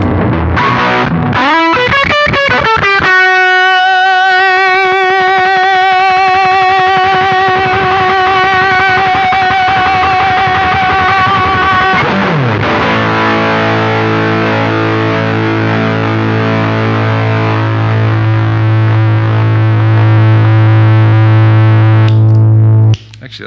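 A heavily distorted electric guitar through Bearfoot FX Razzberry Fuzzdrive and Martial Artist overdrive pedals plays loud sustained chords and held notes, gritty and saturated, ringing out continuously before cutting off at the end.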